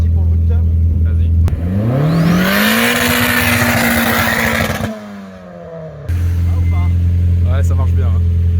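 A Golf 2 GTI 16V turbo idles with a deep loud burble, then revs hard, pitch climbing and holding high against the rev limiter before dropping back to a steady idle; a voice speaks briefly amid the engine.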